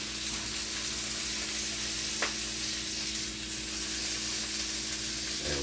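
Beef filet and cod loin searing in a hot pan give a steady, loud, continuous sizzle with no speech, heard up close.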